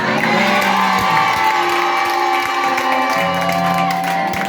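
A church congregation cheers and acclaims together, a loud, sustained crowd roar with shouts and whoops that stays dense and unbroken throughout.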